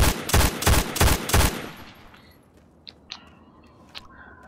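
Video game guns being test-fired, five loud rapid shots in quick succession followed by a fading tail and a few faint clicks.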